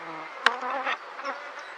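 Bees buzz at a top bar hive left untouched for three years, a close steady drone with a sharp click or knock partway through and the hum swelling and fading as insects move near.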